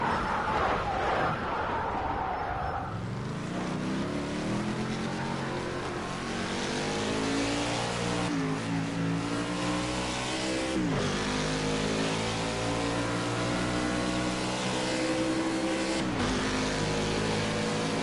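Race car engines rev and howl in Project CARS 2 during an endurance race, pitch sweeping up and down through gear changes as a continuous, fairly loud drone.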